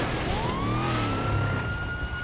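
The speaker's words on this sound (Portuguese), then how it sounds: "Liga a sirene, senão os caras não vão saber." A police car siren in the video game GTA 5 rises and holds a steady wail over engine drone, loud and continuous.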